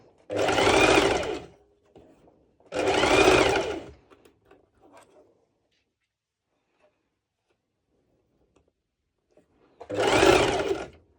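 A serger overlocks a basting-stitched seam on a one-shoulder top, running in three loud, steady whirring bursts separated by quiet pauses with light handling noises.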